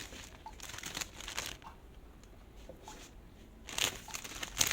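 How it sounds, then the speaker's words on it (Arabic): Clear plastic bag crinkles and rustles softly as a pomegranate is slipped inside, with short bursts of crackling at the start and a louder flurry near the end, close up and fairly quiet. "وهجيب كيس كده شفاف وادخل فيه الرمان، اي كيس عندي"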